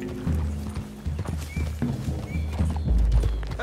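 Horses' hooves clip-clop at a steady walking pace in the western game Red Dead Redemption 2, near and clear over low outdoor ambience, with a faint voice in the background.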